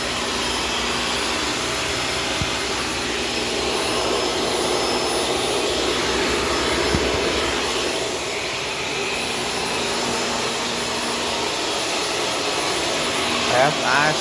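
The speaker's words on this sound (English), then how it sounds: "Honestly, that guy's a pretty nice little vacuum too." A Shark Stratos vacuum cleaner runs nonstop, loud and close, with a steady broadband rushing roar and a high motor whine that holds for the whole stretch.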